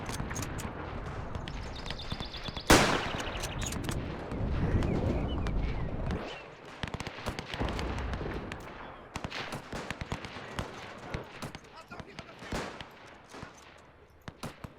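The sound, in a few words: rifle gunfire in the WW1 video game Between Empires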